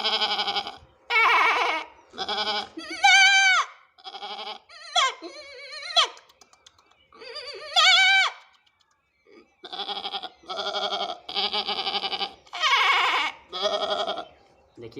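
A man imitates a goat's bleat again and again with his voice, giving a run of loud, wavering nasal bleats in short bursts separated by brief pauses, close to the listener.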